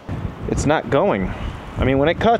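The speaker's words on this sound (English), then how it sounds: "Sorry about the wind, it's super windy out here." Strong outdoor wind batters the microphone with constant low rumbling roar while someone talks over it throughout.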